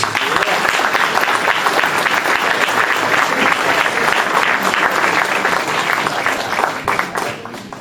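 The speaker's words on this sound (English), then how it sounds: "may I get one more big round of applause for our speakers" A large audience gives a sustained, dense round of applause for the speakers at an education forum event, steady and loud throughout, tapering slightly at the very end, with some voices mixed in.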